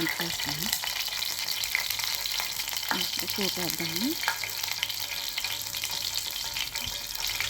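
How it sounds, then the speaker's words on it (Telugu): A tempering of dried red chilies, cumin, mustard seeds, urad dal and chana dal crackles steadily in hot oil, while someone speaks briefly over the frying. "ఇది ఎండుమిర్చి పోపు అంటే జీలకర్ర ఆవాలు మినపప్పు శనగపప్పు"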